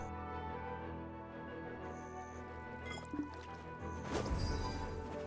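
Water pours and drips onto crops in a farming video game, a soft liquid trickle over a steady musical background, swelling into a louder splashing gush near the end.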